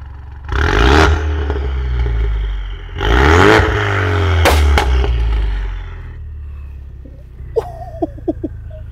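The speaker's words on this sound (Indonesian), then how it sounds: "Nah, ini suara knalpotnya keras sekali" Ford Mustang with a racing exhaust and its valves open, revved hard twice and then once briefly, a loud close rumbling roar that falls away into crackling pops as the engine settles.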